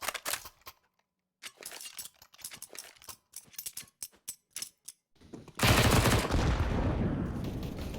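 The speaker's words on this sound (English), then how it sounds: "tapping away with the silenced M4, hitting some gnarly hit shots to finish off that round" Silenced M4 rifle shots in CS:GO come as rapid taps and short bursts of sharp, clipped cracks, followed by a dense, loud stretch of overlapping game gunfire and action noise.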